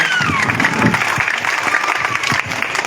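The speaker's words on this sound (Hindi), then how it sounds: "सभी साथियों से निवेदन है, ताली बजाएं सब लोग, सारे लोग।" A crowd of villagers claps at an outdoor political party village meeting, a brief burst of dense, loud, fairly even applause.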